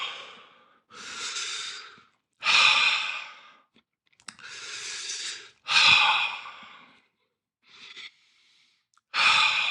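A man breathes deliberately fast and deep to lower his carbon dioxide, loud close-miked inhales and exhales in uneven bursts of a second or so, separated by brief silences, with no speech.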